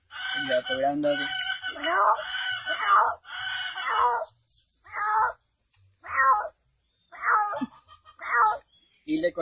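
An elderly man mimics a big cat's meow with his voice after a stretch of talk, giving a series of short, loud, evenly spaced yowling calls, close to the microphone.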